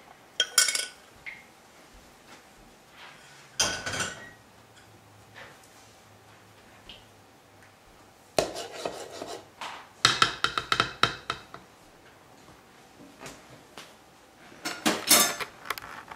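Brownie batter with melted chocolate is mixed in a bowl in bursts of rapid scraping, clinking strokes separated by quiet pauses, close up and with no talking.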